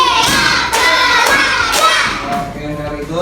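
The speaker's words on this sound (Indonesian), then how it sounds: "Tepuk 5." A class of children claps hands together on a teacher's count, a dense burst of clapping with several stronger slaps and some young voices mixed in.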